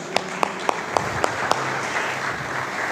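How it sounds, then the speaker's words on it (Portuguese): A church congregation clapping together, with several sharp, evenly spaced claps standing out over a faint background of applause and murmur, moderately close and fading after a couple of seconds. "Vamos aplaudir o meu Isaac aí, glória a Deus."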